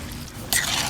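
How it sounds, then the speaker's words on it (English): Water is poured into a pot of Ghanaian jollof rice with spaghetti, a sudden close splashing trickle starting halfway through after a quieter stir, brief and alone. "Let me go ahead and add some water right now."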